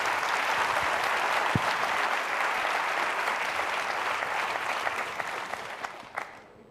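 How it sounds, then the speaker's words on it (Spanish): An audience in a hall breaks into sustained applause, a dense, loud wash of clapping that holds steady and then gradually thins and fades out. "Este aplauso que ha nacido espontáneamente de una persona del flanco derecho que ha contagiado al resto de la sala"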